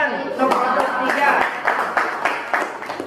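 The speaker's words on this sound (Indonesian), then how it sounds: "Tepuk tangan untuk kelompok 3." Scattered clapping from a group, brief and loose in rhythm, mixed with background chatter and voices in a room.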